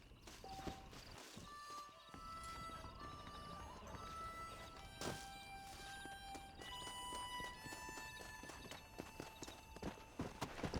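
Horse hooves clip-clop at a steady walking rhythm in the video game Red Dead Redemption, close and fairly quiet, with game music tones ringing over the hoofbeats.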